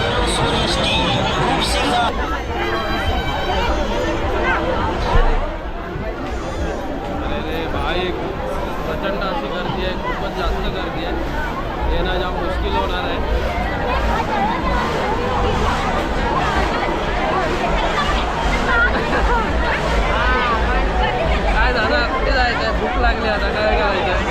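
Dense crowd hubbub at the Dahanu Mahalaxmi Jatra fair among food stalls, a steady loud babble of many voices with one nearby speaker talking over it throughout.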